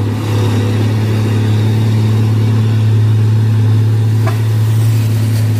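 Heavy trailer truck engine laboring up a steep hill road on a hot afternoon, a loud low steady drone with a strong hum holding throughout, close and unbroken, with no voices.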